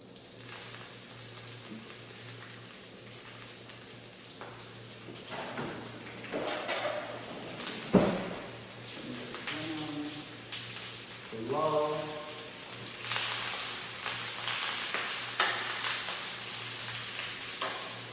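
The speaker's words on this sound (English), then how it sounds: "And just stir your spinach and let it start to wilt." Spinach is added a little at a time to a hot pan and kept moving, giving a steady close sizzle with spoon scrapes and clatter while a person talks over parts of it.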